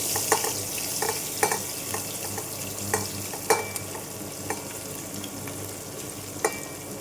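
Corn kernels frying in hot oil with asafoetida in a pan, a steady close sizzle broken by scattered spoon clicks against the metal as the kernels are stirred.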